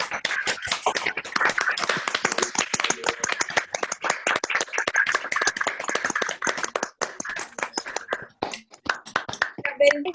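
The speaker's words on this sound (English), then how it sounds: "can I please ask everybody to give a big round of applause to" Participants in an online session unmute and applaud Hina Ben, a dense, sustained round of clapping from many hands that keeps going for about ten seconds, thinning a little toward the end.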